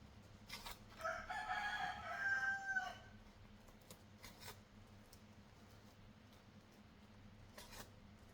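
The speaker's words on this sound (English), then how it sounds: "you hear the roosters?" A rooster crows once in the distance, a drawn-out call over quiet background, followed by faint clicks and soft ambient noise.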